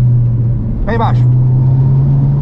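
A car on a racing track accelerates hard at full throttle, its engine holding a loud, steady droning note throughout, with a brief burst of speech over it.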